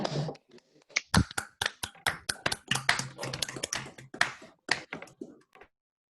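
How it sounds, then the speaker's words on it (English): Scattered clapping from an online talk's audience after unmuting, uneven sharp claps and snaps of varying loudness in several small bursts, with some talking mixed in. "we can give David a round of applause"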